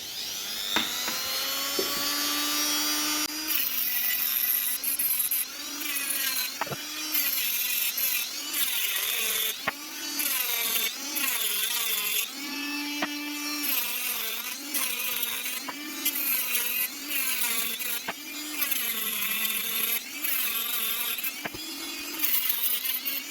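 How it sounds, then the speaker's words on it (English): A Dremel rotary tool scrubs the tabs of an e-scooter battery during a City Coco battery repair, producing loud, high whining bursts that start and stop repeatedly as it grinds against the metal. "So I cleaned all the tabs with the Dremel."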